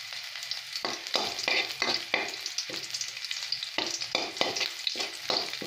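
Garlic fries in a pan with a steady close sizzle, broken by repeated sharp scraping stirs of a utensil at an uneven rhythm.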